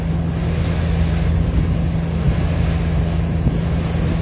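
A river passenger launch cruising near Dhaka: a steady, loud low engine drone over continuous rushing water and wind, with no talking.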